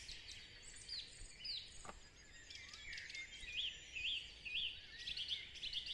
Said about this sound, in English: And just quietly observe the sounds of the birds.